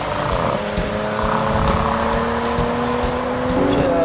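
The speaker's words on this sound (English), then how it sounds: "This engine sings all the way to the red line." A Mercedes-AMG GT sports car screams steadily at high speed on a race track, the engine note sustained and rising close by, with faint tire noise and no talking.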